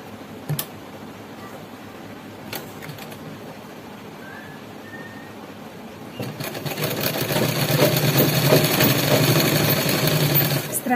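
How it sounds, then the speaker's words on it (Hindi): A sewing machine stitches a child's gharara. Faint ticks and quiet handling come first, then the motor runs steadily and fairly loud through the final five seconds. "इस तरह से मैं पूरा सिलाई लगा लूंगी।"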